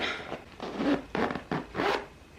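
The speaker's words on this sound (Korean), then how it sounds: "이렇게 열면은 지퍼가 진짜 부드러워 보셨죠?" A zipper being opened on a silver faux-leather bag, heard as three or four smooth, rasping pulls in close succession, close and clear with no talking.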